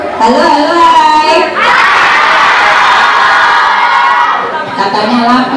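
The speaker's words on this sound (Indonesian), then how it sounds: "Katanya lapar tapi teriaknya masih kenceng." A crowd of children shout loudly together in sustained, overlapping yells, with a brief pause before the shouting surges again.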